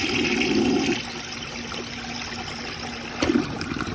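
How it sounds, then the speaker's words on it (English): A 1965 lavender Rheem Claymore toilet flushing: a steady rushing, gurgling wash of water throughout, with a louder surge at the start and a renewed gush near the end, heard up close with no talking. "So I'm going to kind of do some siphon out flushes."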